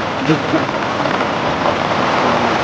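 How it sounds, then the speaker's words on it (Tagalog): Steady heavy rain hissing close by, with faint voices partly buried beneath it. "Pinag-ulan tayo dito."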